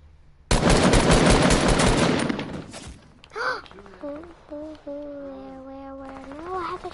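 Rapid automatic gunfire from a video game, a loud, dense burst lasting about a second and a half that then cuts off, followed by voices talking.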